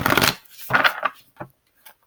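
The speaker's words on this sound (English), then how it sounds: "Let's go ahead and shuffle." Tarot cards shuffled by hand, with two riffling bursts followed by a few lighter card taps and flicks, close and fairly loud with pauses between.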